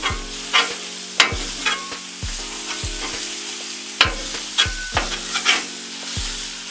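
Seasoned ground meat being broken apart and fried on a Blackstone griddle over low heat, with steady close sizzling and repeated sharp scraping strokes of a spatula against the flat top.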